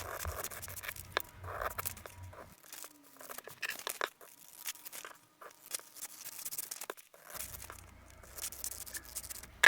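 Fabric pattern pieces, a 25 by 10 cm rectangle and a rectangle with triangular points, being cut out with scissors: soft intermittent snips and paper-like crinkling and scraping, close and fairly quiet, with no talking.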